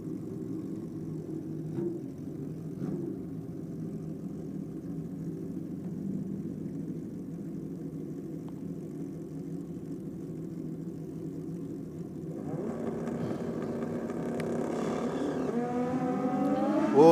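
Kawasaki drag-racing motorcycles launch off the start line at a track championship, a low engine rumble building into a rising high-revving scream that grows louder toward the end.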